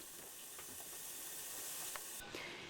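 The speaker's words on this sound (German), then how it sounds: "Die Rauchpeitschen kann man natürlich auch in die Suppe geben, aber das wäre ja langweilig, deswegen brate ich sie an." Smoked sausage sticks fry in a pan for lentil soup, giving a steady, close sizzle and hiss with a few faint pops and clicks throughout.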